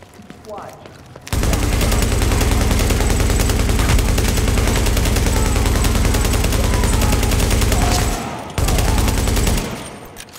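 Sustained video-game gunfire, a dense rapid burst of automatic shots that runs loud and continuous for several seconds, breaks off briefly, then resumes before fading.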